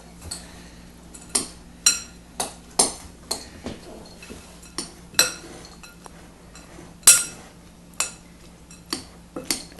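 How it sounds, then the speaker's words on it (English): A spoon repeatedly clinks against a metal pot while stirring a Cuban empanada filling, about a dozen sharp, close taps at an uneven pace over a low steady hum, with no talking. "I'm just going to stir it up."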